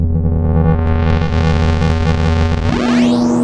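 A synth loop run through a bit crusher with a filter after it, a buzzing, harmonically rich drone with pulsing tones that suddenly sweeps upward into a gliding, filtered distortion near the end.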